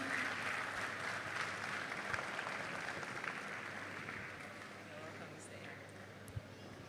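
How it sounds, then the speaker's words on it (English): Conference crowd in Lagos applauding in a hall, a soft, continuous wash of clapping that stays fairly distant and gradually tapers, with faint talk mixed underneath. "please sustain the applause. Sustain the applause."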